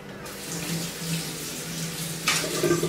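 Tap water runs steadily into a kitchen sink for rinsing, a continuous close splashing rush that brightens near the end.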